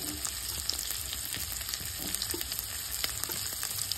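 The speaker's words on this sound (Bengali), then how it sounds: "সমস্ত সবজিগুলোকে ভালো করে ভেজে দেবো।" Peas and chopped tomato fry in a pan with a soft, constant sizzle, broken by scattered crackles and occasional stirring scrapes, fairly quiet and close with no talking.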